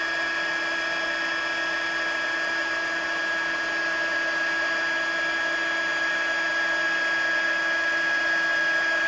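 A heat tool blows steadily while melting embossing powder across a card panel, a constant high whine with a bright fan hum and no change in level throughout.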